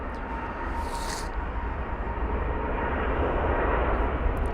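An Airbus A350-1000 airliner, British Airways flight 289 to Phoenix, at London Heathrow roars with a loud, steady jet-engine rumble and whine, constant throughout without talk.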